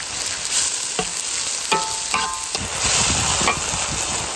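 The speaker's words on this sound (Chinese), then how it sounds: "辣椒翻炒一会儿，再把西红柿倒进来" Chili peppers and crushed tomatoes stir-fried in a wok, with loud continuous sizzling and several sharp scraping strokes of a spatula against the pan, no talking.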